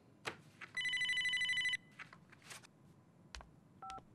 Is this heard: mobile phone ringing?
yes